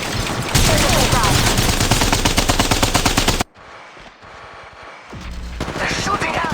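Rapid automatic gunfire in the mobile video game Apex Legends Mobile, dense bursts that stop abruptly before another burst starts, heard over in-game voice lines.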